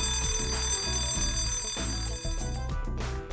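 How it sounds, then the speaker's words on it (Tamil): A school fire alarm bell rings loudly and continuously, a harsh, buzzing tone that pulses in rapid repeated strokes with no voices over it. "தீ எச்சரிக்கை ஒலியை கேட்டவுடன் நீங்கள் செய்ய வேண்டியது இதுதான்."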